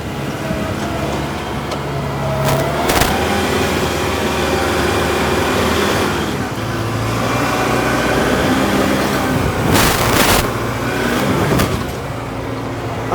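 Tractor driving with its scrape blade lowered and riding on the ground, clearing a yard: a loud, steady engine drone with rumbling and scraping, plus a few sharp louder bursts.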